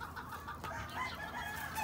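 Rooster clucking and crowing close by, a steady run of throaty fowl calls with no voices.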